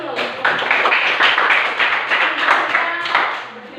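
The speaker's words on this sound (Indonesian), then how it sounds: "Tepuk tangan dulu." Students clapping in a classroom, a short burst of uneven hand claps from a small group, close and fairly loud, with voices mixed in as it fades.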